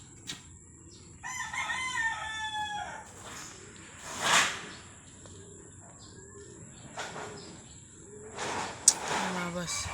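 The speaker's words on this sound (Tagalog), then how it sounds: "Ito pala yung manok natin na isa nandyan." Backyard chickens with a rooster crowing several times and hens clucking, fairly close, among outdoor noise, with someone talking faintly in between.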